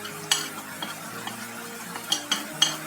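Tomatoes with turmeric, red chilli powder and salt frying in a pan while being stirred, giving soft scraping spoon strokes and light sizzling, with sharper clinks at irregular intervals.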